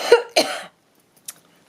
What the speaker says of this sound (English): as soon as I start filming, I start coughing, don't I?